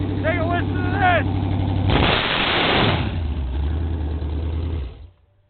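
Chevy big-block V8 car engine running loud and close, a steady low rumble with a surge in the middle before cutting off near the end, with excited voices talking over the start.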